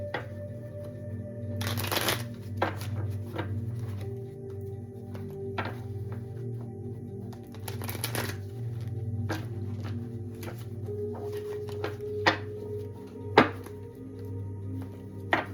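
Cards are shuffled in two quick riffling bursts, close by, with soft taps and thunks of handling in between over a low steady hum.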